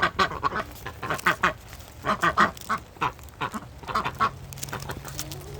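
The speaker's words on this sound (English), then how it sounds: "You probably cannot hear me because the ducks are ridiculous." A noisy flock of ducks quacking at close range, loud repeated clusters of harsh quacks and honks in uneven bursts, with a steady low hum underneath.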